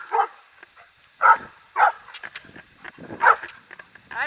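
Several sharp dog barks and yips ring out close by, spaced irregularly with pauses between them, and a few softer whimpering sounds fill the gaps.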